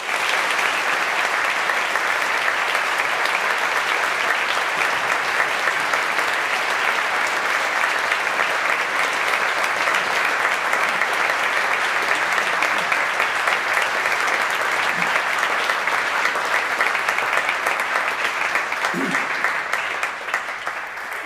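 An audience at Oxford University applauds to welcome Sir John Major, a loud, dense, sustained clapping from a large crowd that carries on without pause for about twenty seconds before easing off slightly at the end.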